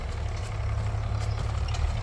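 Tractor engine idling on a farm, a steady low diesel rumble at moderate distance with no talk.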